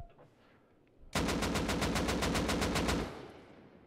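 AK rifle fired in Rust Console Edition, one loud sustained burst of rapid automatic shots lasting about two seconds, then a short fading echo, with no voices.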